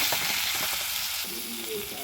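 Ground turmeric, cumin and chilli powder fry in hot oil with a continuous loud sizzle and crackle, stirred now and then, close by.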